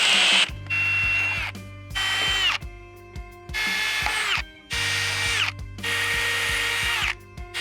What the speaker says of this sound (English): You're gonna start by using a really small drill bit